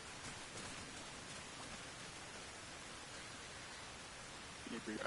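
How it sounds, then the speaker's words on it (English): Steady rain and wind ambience from the video game Arma Reforger, a constant hiss of falling rain with a faint rise in level near the end, no speech over it. "Let me turn off the rain and wind, hold on."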